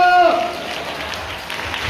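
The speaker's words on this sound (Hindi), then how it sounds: "जोरदार ताली बजाकर हालेलुया" A congregation at a Hindi-language church service breaks into loud, dense applause that runs steadily for about two seconds, following a brief voice at the start.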